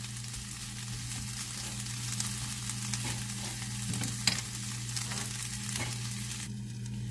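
Steak fajitas cook in oil under a lid, giving a steady, moderate frying hiss with a constant low hum beneath, continuing evenly without talk.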